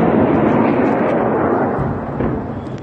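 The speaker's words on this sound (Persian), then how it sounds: "همین بالا سر ما این صدای جت این صدای جت اسرائیله" An Israeli fighter jet passes overhead above Tehran, a loud, heavy, rumbling roar that fills the whole stretch and eases slightly toward the end.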